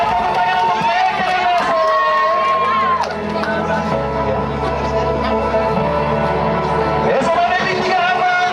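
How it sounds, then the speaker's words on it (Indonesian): Applause and cheering from an audience at a national high school arts and literature festival in Kupang, greeting a school contingent, a steady broad roar of clapping and crowd noise with music and voices mixed in throughout. "kita berikan tepuk tangan untuk mereka"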